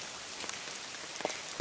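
Steady rain falls on tree cover during a walk, a dense soft patter with a few louder drops tapping close by.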